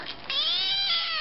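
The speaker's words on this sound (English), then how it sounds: "Dale, where is it? Meow." One drawn-out cat meow, sliding slowly downward in pitch over about a second, fairly close and clear against a quiet background.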